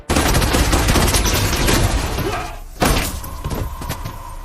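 Gunfire from the film Death Wish (2018): a dense, loud burst of rapid shots with a brief break, then another sharp volley.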